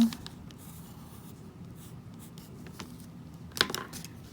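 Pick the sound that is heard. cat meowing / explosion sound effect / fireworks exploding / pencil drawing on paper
pencil drawing on paper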